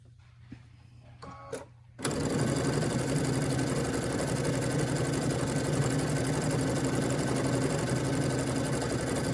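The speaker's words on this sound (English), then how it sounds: "I'm not really holding this fabric. I'm letting the machine do its work." Brother sewing machine fitted with a 7 mm walking foot stitching fabric, a loud, steady, fast mechanical whir that runs continuously after a few brief handling clicks at the start.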